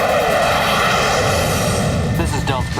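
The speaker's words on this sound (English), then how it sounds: "We have 2 F-15s on intercept." Military F-15 fighter jets flying past in an action sci-fi film scene, a loud continuous engine roar with a rising whine that holds steady before shifting and fading near the end, with a voice briefly heard over it.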